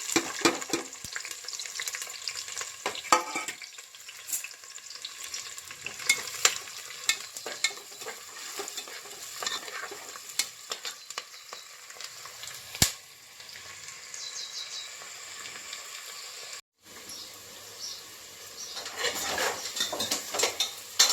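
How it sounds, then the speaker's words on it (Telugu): Finely chopped onions and bay leaves fry in hot oil, a continuous crackling sizzle with scattered clinks and scrapes of a utensil against the pan, close by and fairly quiet throughout. "నూనె వేడెక్కిన తర్వాత రెండు బిర్యానీ ఆకులు వేసుకోవాలి ఆయిల్లో తర్వాత సన్నగా తరిగిన ఆనియన్స్ కూడా వేయాలి"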